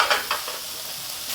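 Mushrooms and shrimp fry in a pan for a high-protein warm salad, a steady close sizzle with a few brief scraping stirs, no voices.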